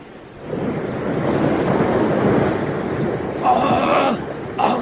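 Ocean surf rolling onto a sea shore, a continuous rushing wash of breaking waves with some wind buffeting, rising briefly near the end; no speech.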